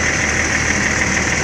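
Pelangi bus engine ticking over at idle while it is inspected, a constant close mechanical drone with a steady hum and no voices.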